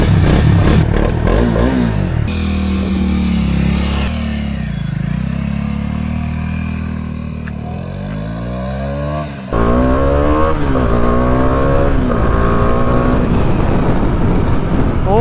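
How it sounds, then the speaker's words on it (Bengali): A Dominar 400 motorcycle, a roughly 400 cc bike, revs and accelerates on a test ride, its loud engine note rising and falling in pitch continuously, with a brief dip before surging again. "লাইফে ফার্স্ট টাইম আমি এখন চেক করতে চলেছি ডমিনার"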